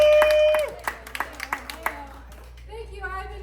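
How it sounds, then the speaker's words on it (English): At an improv comedy show, a small audience gives a brief burst of scattered clapping for a performer named Alexa, with a voice talking over it before and after. "Give her a round of applause."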